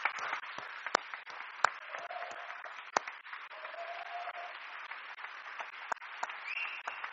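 Quiet, distant applause from a gathering honouring Kim Harrison, with a soft bed of many hands and a few sharper, louder claps standing out now and then.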